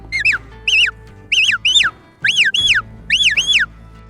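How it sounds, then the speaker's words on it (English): Sharp, high herding whistle commands to a sheepdog working cows ring out in quick pairs, each a rising-and-falling trill, repeated about five times with short gaps, loud and close. "I was telling her with the whistle to push more"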